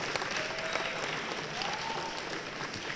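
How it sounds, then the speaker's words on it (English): A room full of people applauds through the whole stretch, steady dense clapping with no break and a few sharper claps standing out. "Let's give you a big round of applause for being here today"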